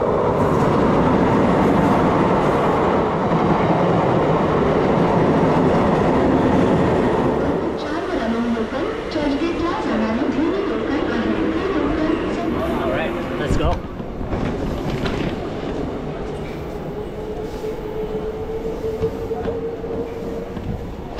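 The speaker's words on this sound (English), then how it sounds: "Looks like a train should be coming any minute." A train rumbles loudly past on the tracks in Mumbai, India, its heavy roar easing into rhythmic wheel clatter and a thin metallic squeal near the end.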